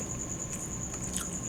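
A bite into an empanada seasoned with taco-style spice and cayenne, heard as a few soft, close crunching and squishing chews over a steady faint background hiss.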